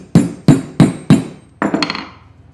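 Four sharp metal hammer strikes on an antique jaw harp resting on a railroad track anvil, evenly spaced and loud, then a quicker cluster of lighter ringing taps that fade out.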